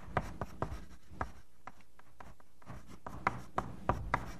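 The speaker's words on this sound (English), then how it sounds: "So I'll just write that here." Chalk on a blackboard in a university lecture hall, a run of quick scratchy taps and strokes close by, bunched at the start and again near the end, with no talk over it.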